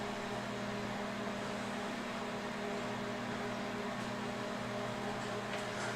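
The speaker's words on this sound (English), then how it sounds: "Here we are in the microwave oven, ready to set the timer" Microwave oven running while cooking, a faint steady hum with a constant low mechanical drone and airy fan noise, unchanging throughout with no voices.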